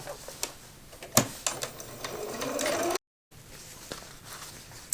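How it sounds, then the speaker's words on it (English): A sewing machine stitches fabric sides of a divided caddy together, a rapid, close mechanical whirring run with clicks before it, a short pause, then more quiet handling. "I'm going to attach this side to this top side and stitch end to end."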